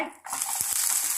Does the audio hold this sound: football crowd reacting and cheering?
no